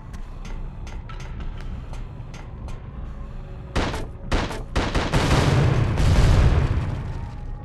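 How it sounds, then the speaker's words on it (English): A .45 caliber SMG fires in the video game The Suffering: short, crisp bursts rattle off at first, then build into heavy, continuous gunfire with booming impacts. "you'd think a 45 caliber SMG would be kind of decent against these monsters"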